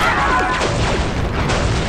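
A grenade detonates in the Star Wars Republic Commando video game, a loud, dense roar of blast noise that fills the whole stretch without a break.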